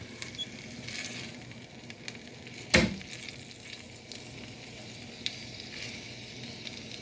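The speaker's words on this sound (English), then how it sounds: "Oh, it's already sizzling." Food sizzles in a frying pan with a steady, crackling hiss. One sharp pop stands out partway through, and no one speaks.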